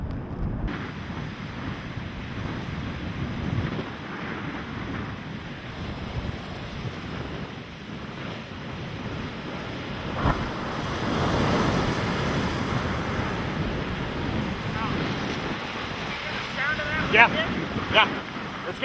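Big ocean waves crash and churn during Hurricane Ike, with heavy wind buffeting the microphone, a continuous roar that swells midway and again near the end, with faint voices at times.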